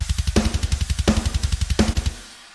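A sequenced drum pattern with steady kick and hi-hat pulses, with a sampled snare from ReaSamplOmatic5000 cracking on three evenly spaced hits, playing alone and clean before a short decay.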